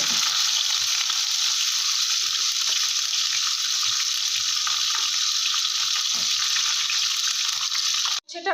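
Bitter gourd frying in hot oil gives a loud, steady sizzle that holds without a break for about eight seconds, then cuts off abruptly near the end.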